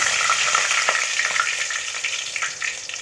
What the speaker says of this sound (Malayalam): 3-4 വറ്റൽമുളക് ഇട്ട് കൊടുക്കുക. കറിവേപ്പില ഇട്ട് കൊടുക്കുക.